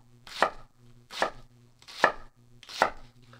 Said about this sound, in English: So for cutting a dice this way, the weight of the blade is really nice.